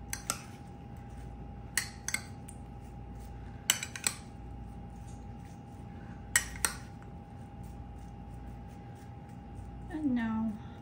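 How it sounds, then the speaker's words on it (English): Cut apples being stirred with lemon juice in a bowl, a few separate sharp clinks of a utensil against the dish over a quiet room hum, with a short squeak near the end. "Give it a stir."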